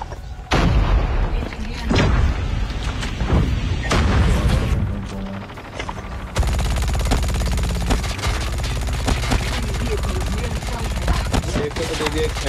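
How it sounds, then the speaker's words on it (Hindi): Sniper gunfire and other weapons in a Call of Duty Mobile match, with loud booming shots in quick succession and then a dense, continuous barrage, while players talk over it. "स्नाइपर मार रहा है."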